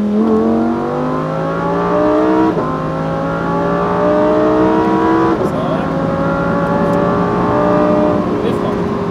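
Lamborghini Huracan STO engine pulling hard on a race track, a loud sustained rising roar that drops briefly at each upshift and climbs again, with people talking over it.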